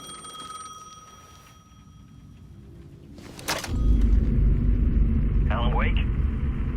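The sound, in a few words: payphone ringing in video game Alan Wake 2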